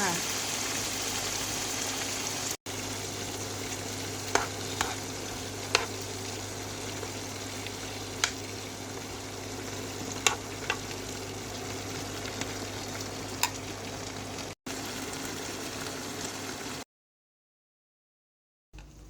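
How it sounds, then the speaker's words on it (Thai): Crickets deep-fry in a hot pan of oil with pandan leaves, giving a steady, even bubbling sizzle throughout, punctuated by occasional sharp ticks, before cutting to silence near the end. "ที่นี่เราก็ใส่ จิ้งหรีด นี้เอาไปทอดเลยค่ะ"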